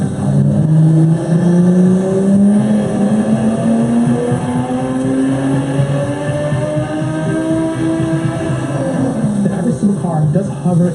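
A powerful race car engine revs hard on a dynamometer during a power run, loud and close, its pitch climbing steadily through the gears.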